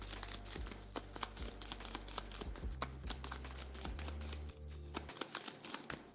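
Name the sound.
shuffling a deck of board game cards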